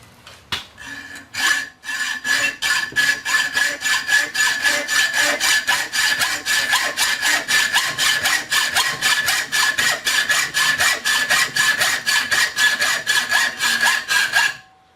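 Hand saw cutting through stainless steel, a steady run of rapid, even back-and-forth strokes with a bright metallic rasp, loud and close, continuing without pause before trailing off at the end.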